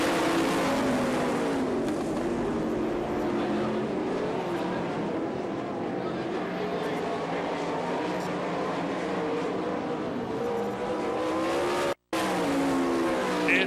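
Sprint race cars at an All Star Circuit of Champions dirt-track race in Florence, Kentucky roar continuously, engines rising and falling as cars slide through the turns, with a commentator talking over the loud field.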